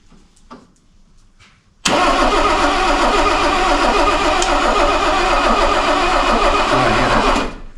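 A 1970 Mercedes 280 SE, dormant for 30 years, cranks once and fires abruptly into a loud, steady, close idle that runs for several seconds before cutting off.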